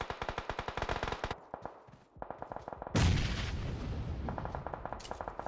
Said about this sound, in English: Let's get a few shots onto Fluffy.